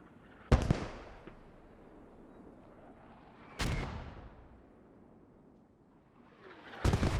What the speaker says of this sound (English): I just heard a massive firework.